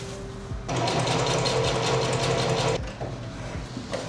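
A sewing machine stitches darts on the back of a garment, running in one steady, loud whirring burst of about two seconds that starts and stops abruptly in a quiet room.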